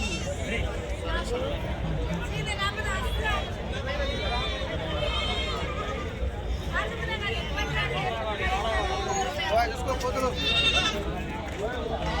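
Goats and sheep bleat again and again at the weekly Saturday livestock market in Chilakallu. Their overlapping calls ring out close and far over a steady hubbub of crowd chatter, and people talk nearby.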